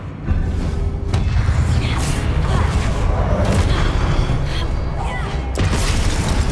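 Spell explosions from Hogwarts Legacy gameplay form a loud, dense wash of booms and crackling blasts, with sharp bursts near the start and end, as a voice shouts spell names over them.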